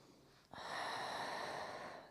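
A person exhales forcefully during a Pilates exercise: after a quiet start, a steady, breathy rush of air begins about halfway in and holds close and even for over a second.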